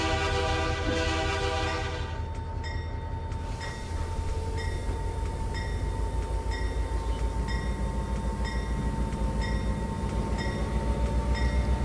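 Locomotive horn of an SD40 diesel in the Trainz 2019 railroad simulator, a long steady chord blown over the rumble of a moving train, with the horn continuing throughout the clip.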